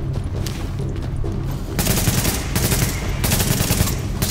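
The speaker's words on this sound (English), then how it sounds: "who the hell is shooting at me?" Rapid automatic gunfire in the video game Tom Clancy's The Division during a boss fight, continuous bursts that grow louder and denser midway, with dense shooting filling the whole stretch.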